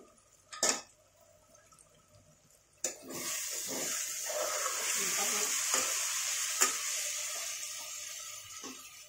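Tomatoes and onions frying in a pan for chicken biryani, with mint and coriander added, give a steady broadband sizzle that starts abruptly after a couple of quiet seconds with a few sharp knocks, then holds at moderate loudness.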